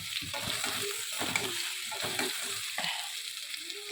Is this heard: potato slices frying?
yes